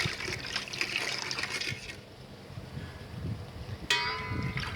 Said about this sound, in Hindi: ये दूध है, इसको दूध को इसमें शामिल किया जाता है